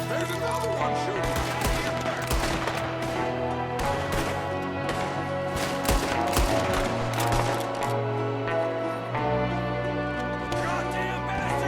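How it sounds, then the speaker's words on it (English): Rapid volleys of gunfire from Red Dead Redemption 2 crack through a dense, continuous firefight, with repeated sharp shots layered over a loud steady background and musical score. "There's another one shooting!"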